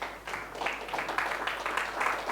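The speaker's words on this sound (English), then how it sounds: "please give a big round of applause for the prizes provided today" A room at a live sommelier competition breaks into a steady round of applause, many hands clapping continuously at moderate distance throughout.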